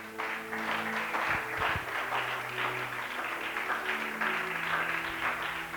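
A church congregation at a French-language worship service applauds together, a steady, sustained clapping from many hands filling the room at moderate volume with no talk over it.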